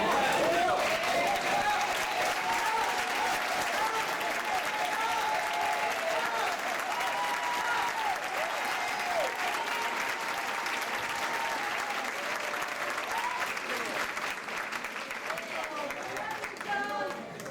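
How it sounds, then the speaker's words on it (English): A large audience claps continuously in sustained applause for a county commissioner at an honoring celebration, a dense, steady roar of clapping with crowd noise that holds loud throughout and thins slightly near the end. "Please stand and give a round of applause for Dallas County Commissioner John Wiley Price."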